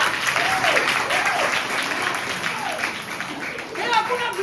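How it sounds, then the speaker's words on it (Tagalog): A church congregation breaks into sustained applause during a sermon, steady and full throughout with scattered voices and cheers mixed into the clapping crowd. "palakpakan natin na yun"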